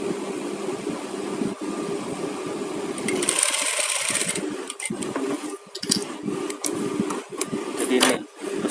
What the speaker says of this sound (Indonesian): Kita jahit stik renggang besar sampai tengah, batas tengah ini kita lipat.